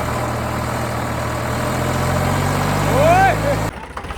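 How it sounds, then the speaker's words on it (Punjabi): A tractor engine idles close by in a steady low rumble, with people talking over it, before the sound cuts off abruptly near the end. "ਆ ਗਿਆ ਦੇ ਮਿੱਤਰੋ ਟਰੈਕਟਰ"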